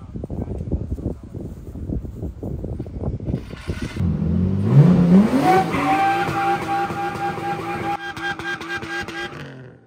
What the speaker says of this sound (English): It spins both wheels, so let's go drifting.